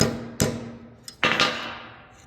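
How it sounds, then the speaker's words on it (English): Hammer striking a metal shifter cable mount near a drive shaft and brake, two loud close blows with ringing decay and a small tap between them, no talk. "So I'm gonna use my hammer"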